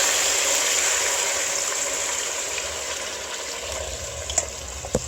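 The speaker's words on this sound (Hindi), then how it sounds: "अब इसमें जो इसका सूप है, इसे हम स्ट्रेन करके डालते हैं। ये स्ट्रेन कर रहे हैं।" Mutton paya soup made from goat trotters being strained into a pot, a steady pouring, trickling wash that fades slowly, with a couple of small clinks near the end.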